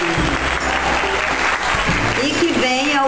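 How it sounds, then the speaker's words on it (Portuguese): Audience applause at a municipal literature festival in Brazil, a dense sustained clapping from a crowd filling the room, with a voice speaking over it. "Palmas, gente!"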